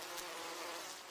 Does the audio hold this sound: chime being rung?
no